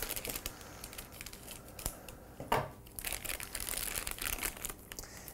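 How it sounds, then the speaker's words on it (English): Plastic packaging crinkles and rustles in quick irregular bursts, with occasional sharp snips and crackles, fairly close and quiet. "Much easier to open these packages with scissors."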